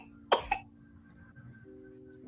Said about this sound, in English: And you probably hear this little one coughing.